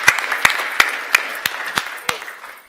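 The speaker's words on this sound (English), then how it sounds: "I want to give her a hand clap of applause" Several slow, distinct hand claps ring out at a board of trustees meeting, about seven spaced beats in a room, fairly close and a little reverberant, with no voices over them.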